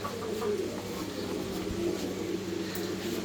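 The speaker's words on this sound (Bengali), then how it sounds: "আপনারা দেখতে পাচ্ছেন একজোড়া স্টিক টামলার, একটা 6 ফেদার আর একটা 7 ফেদার, এক ঘরেরই কবুতর" Tumbler pigeons, a pair of stick tumblers among them, coo in soft repeated low calls, close by and continuous against faint background noise.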